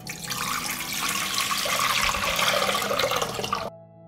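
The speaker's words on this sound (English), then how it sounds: "I pour 2 liters of water into the pot." Two liters of water poured into a pot, a continuous rushing splash that holds steady for several seconds and then cuts off abruptly.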